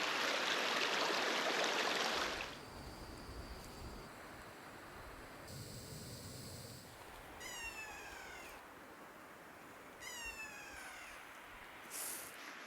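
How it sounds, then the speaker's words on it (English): A mountain stream pours down from waterfalls into a lake, a steady rushing wash of water throughout, louder in the first two seconds, with bright, high chirping bird calls rising over it a few times. "a really pretty stream flowing down from the waterfalls up here, straight down through here into the lake."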